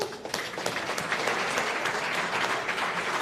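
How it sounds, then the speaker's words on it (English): Audience applause for non-senior all-county athletes at a senior athletic awards dinner, a steady, full crowd clapping throughout with no talk over it. "I'd just like to give them a round of applause"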